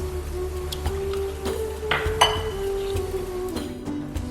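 A spoon stirring half a cup of sugar into half a litre of milk in a pan until dissolved, with light clinks and scrapes against the pan over a steady low background hum.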